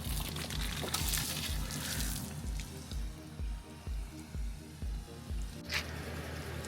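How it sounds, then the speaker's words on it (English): Fresh water runs steadily through a hose pipe extension into an RV's tank, a continuous rushing pour with a regular low thumping pulse beneath it. "उससे हम fresh water हमारे आरवी में रिफिल कर रहे हैं"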